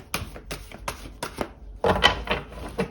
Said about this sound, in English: I will give the deck a few more shuffles here